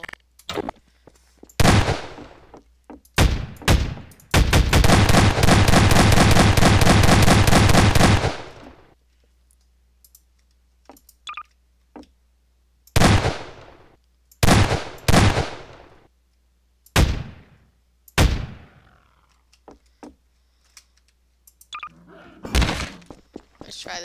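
A super pistol fires in Garry's Mod, in loud, close single shots and short bursts, with one long rapid stream of fire, separated by quiet gaps.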